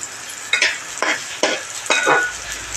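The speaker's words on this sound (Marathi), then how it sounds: "असे छान भाजून घ्यायचे तांदूळ" Rice grains being roasted and stirred in a pan for a pineapple sweet rice dish, four distinct scraping strokes with soft dry rustling between them, close up and with no talking.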